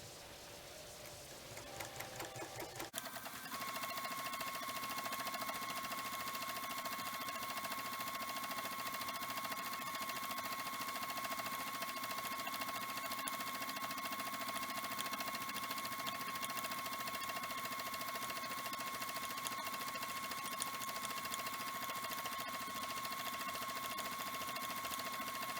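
After a brief start-up, a sewing machine runs steadily for a long stretch while thread painting a chickadee, an even mechanical whir with a constant high hum and fast stitching rhythm, close and unbroken.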